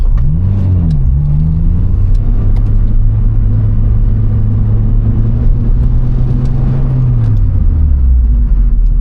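A Honda Civic Type R EP3 engine revs hard and loud, climbing steadily toward its 8,500 rpm limit before the note falls away as it winds down; no one speaks over it.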